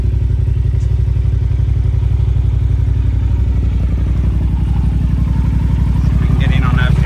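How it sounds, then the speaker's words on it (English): A 2008 Yamaha TDM900 motorcycle idles with a deep, steady exhaust rumble in regular low pulses, loud and close, while someone talks over it. "Nice deep rumble from the pipes as well."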